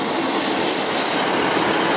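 A passenger train at a railway station on a Manchester Victoria via Atherton service gives a steady, loud rumble with wheel squeal throughout, no voices.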